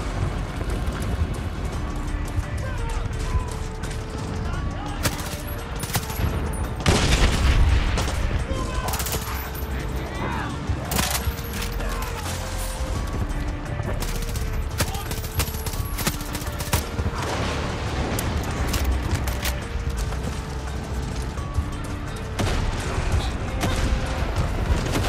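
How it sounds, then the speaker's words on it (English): Dense bursts of crackling explosions and rapid popping go on continuously, with booms and occasional voices mixed in, loud and chaotic throughout, from fireworks in the video game Far Cry 6. "Fireworks."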